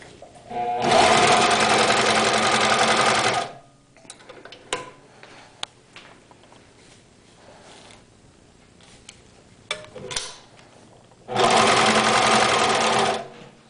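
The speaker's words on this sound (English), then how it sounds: "You want to sew a little bit of vinyl." A TuffSew portable industrial walking-foot sewing machine stitches vinyl in two loud, steady bursts of fast mechanical whirring and clatter. Quieter clicks and handling noises fill the gap between the bursts.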